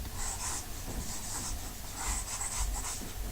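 Marker or chalk scribbling on a board during a two-dimensional quantum physics lecture, with scratchy strokes in short bursts running steadily at moderate, fairly close level with no talking.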